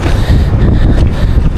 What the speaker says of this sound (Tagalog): tabing dagat po kasi, kaya sobrang lakas ng hangin